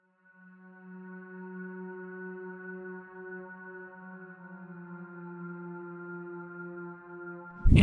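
A sustained synth pad chord from an Arabic slap house track built in FL Studio holds steady and smooth for several seconds, then a sudden loud hit cuts in at the very end.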